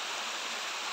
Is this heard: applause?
no